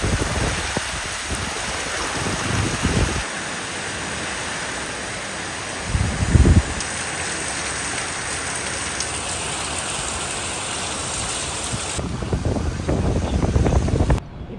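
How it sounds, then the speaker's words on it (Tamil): Heavy rain pours steadily onto a street at Nallur in Jaffna, a dense, even hiss throughout with a few low gusts of wind rumbling against the microphone. "இப்போயும் மழை விடாமல் பெய்து கொண்டு தான் இருக்குது"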